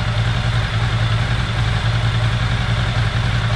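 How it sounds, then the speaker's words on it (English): A Ducati motorcycle engine, a ST4S, ST4, MS4, 748 or 916 type with throttle bodies, idles on the fast idle lever with a steady, loud, even low rumble throughout. "It's currently idling because the fast idle lever is still on."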